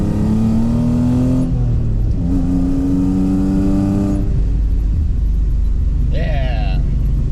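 A car accelerates hard along a straight, its engine note climbing steadily through the gears in a loud, continuous rising drone, with a brief high whine near the end.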